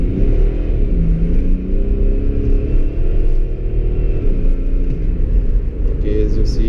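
A tuned 2005 BMW 535d diesel of 370 hp accelerates at full throttle, its engine note climbing steadily under a loud, continuous rumble before easing off near the end.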